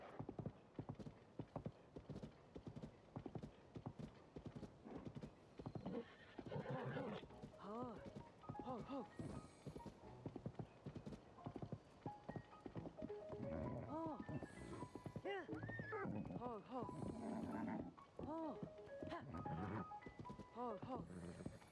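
A horse in the Zelda Tears of the Kingdom video game clip-clops in a steady rhythm of hoofbeats, joined by repeated neighs and whinnies through the second half, fairly quiet overall with a voice talking over it.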